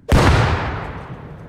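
A single loud, sharp grenade blast in the video game Rust erupts after a brief silence, then trails off in a long rumbling decay.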